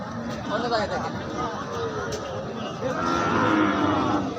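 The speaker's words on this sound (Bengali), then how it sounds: "আজকে কিন্তু আমরা গাভী গরুর বাজারে ঢুকেছি" Cows at a cattle market in Bamondi, Meherpur, lowing repeatedly and fairly close over a steady hubbub of crowd chatter and voices.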